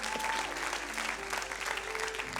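A church congregation applauding, dense continuous clapping from many hands filling the room throughout.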